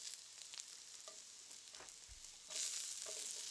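Carrots, sweet peppers and onion sauteing with thyme in a new HexClad wok, a steady close sizzle and fry that rises louder partway through, with faint stirring scrapes.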